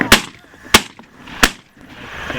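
Three loud, close shotgun blasts ring out about two-thirds of a second apart during a dove hunt, each a sharp crack with a brief tail and a quiet field in between.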